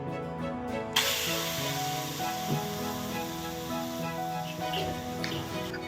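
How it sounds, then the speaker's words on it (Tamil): Cleaned prawns drop into about half a tablespoon of hot oil in a pan, setting off a sudden, steady sizzle and hiss that carries on at even loudness. "ஒரு பேன்ல 1/2 டேபிள் ஸ்பூன் அளவுக்கு எண்ணெய் சேர்த்துட்டு க்ளீன் பண்ணி வச்ச இறாலை சேர்த்துக்கலாம்."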